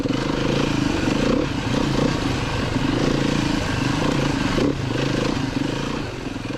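A Beta 390 RR-S four-stroke dirt bike ridden through woods, the engine droning loud and steady close up as the throttle is eased off but not fully closed, with a slight dip near the end.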